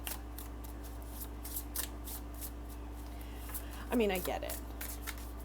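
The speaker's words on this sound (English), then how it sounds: "And this time I know what way to shuffle the angel oracle cards, and what way not to shuffle it." Angel oracle cards are handled and shuffled in quick, soft, papery bursts and flicks under a woman's speech, with a brief louder riffle near the end.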